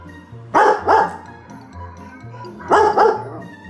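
A dog barks at dogs on a television screen, two pairs of close, loud barks separated by a pause, over a low steady hum.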